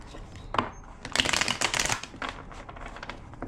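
A deck of tarot cards being shuffled close by, with a quick riffle near the start and then a longer flurry of papery slaps and flutters that trails off into softer taps.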